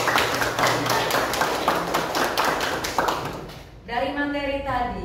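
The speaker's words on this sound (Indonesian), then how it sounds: "tepuk tangan dulu untuk hari ini" A class of students clapping together in an Indonesian classroom at the end of an economics lesson, a fast, even run of sharp claps for several seconds, then a voice speaking as the clapping dies away.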